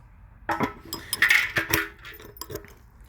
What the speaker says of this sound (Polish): Otworzymy jeszcze z ciekawości tutaj zbiornik